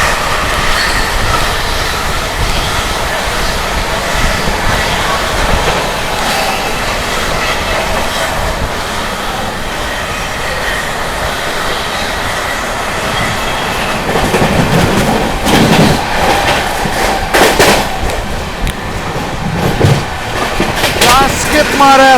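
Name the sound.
Amrit Bharat Express train overtaking another train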